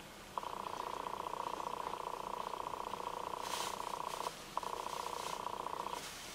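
A tomcat purrs steadily while someone holds it, a close, sustained drone lasting about four seconds, breaking off briefly, then resuming for another second and a half.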